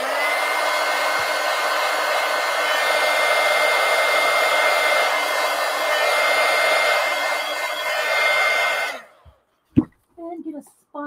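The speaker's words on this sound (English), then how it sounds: "Now let me hit that with the heat gun real quick." A heat gun drying a base coat on a coloring book page worked with pan pastels and markers: a loud, steady blowing roar for about nine seconds that then cuts off, followed by a few faint handling sounds.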